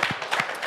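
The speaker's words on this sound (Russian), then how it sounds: "Давайте еще раз искупаем его в аплодисментах" Studio audience applauding a singer on an evening television show in Gomel, a short burst of dense, steady clapping from a room of people, fairly close and without voices.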